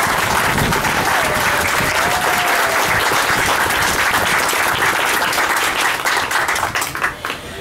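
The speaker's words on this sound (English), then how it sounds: "Please give them a round of applause." A campaign-event audience applauds volunteers with loud, dense clapping that runs steadily from start to finish and starts to thin out in the final second.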